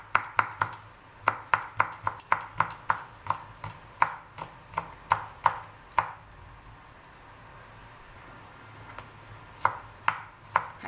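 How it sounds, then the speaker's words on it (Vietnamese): A knife mincing large purple Indian shallots and garlic on a cutting board for salt-and-chili grilled squid. Rapid, sharp, close chopping comes in steady bursts, then goes quiet and resumes, with no talking. "băm hành và băm tỏi"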